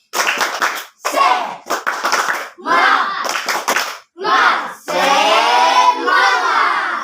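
Students in a classroom chant 'tepuk semangat' together while clapping in time, a run of loud, clipped rhythmic bursts of voices and hands, finishing with a drawn-out collective cheer.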